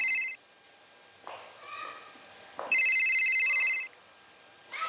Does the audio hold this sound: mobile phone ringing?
yes